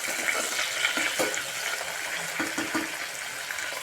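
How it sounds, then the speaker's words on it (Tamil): Water is poured into a cooking pot holding vegetables, a steady broadband splashing and gushing that runs close and fairly loud through the whole stretch, with no talk over it. "தண்ணி அளவாக ஊற்றி வேக வைங்க"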